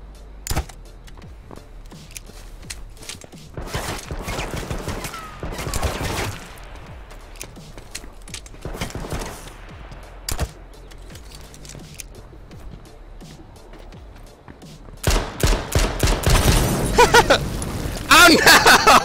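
Gunfire in a battle royale video game: scattered individual shots and short bursts, sparse early then a loud rapid cluster near the end, with a voice talking between the shots.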